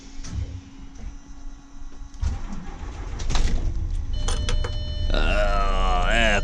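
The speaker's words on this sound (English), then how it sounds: "Let's give this engine a little run and see what happens." A coach's engine cranks and catches, then settles into a steady running drone, with clicks and a rising whine toward the end.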